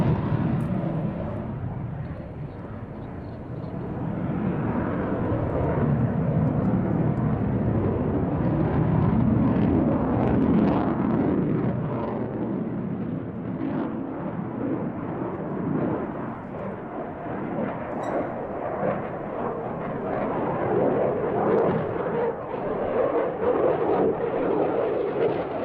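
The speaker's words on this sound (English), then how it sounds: "Some more great footage from the Royal International Air Tattoo, and this time with the, I think it's the Italian Typhoon." An Italian Eurofighter Typhoon jet at the Royal International Air Tattoo airshow produces a broad, rolling roar that swells and fades over about half a minute, heard at a distance without talk.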